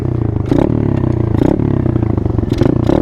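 Dirt bike engine running steady with a rough, chattering idle-to-midrange drone, short throttle rises around gear changes, close and loud with no talk.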